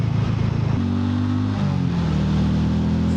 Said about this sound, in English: The engine's purring away nicely. I'm just in third gear, 30 mile an hour